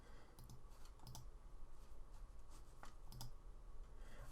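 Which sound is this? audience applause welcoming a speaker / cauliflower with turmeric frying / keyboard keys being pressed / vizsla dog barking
keyboard keys being pressed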